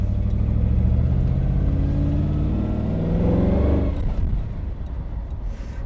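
A 1970s Škoda car drives along with a steady, close mid-pitched engine drone that swells as it accelerates, then drops away suddenly into quieter road noise near the end.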